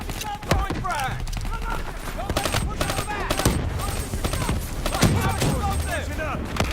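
Rapid automatic gunfire and bursts in the Call of Duty Black Ops 3 campaign mission Demon Within, dense and continuous throughout, mixed with explosions, game effects and soldiers shouting.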